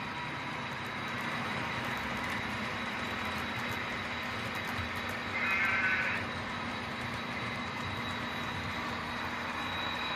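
A model train rolls along with a steady mechanical whir and faint rail clatter, continuous and fairly quiet, with a brief higher hiss midway.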